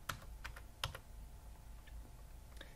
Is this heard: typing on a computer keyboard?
yes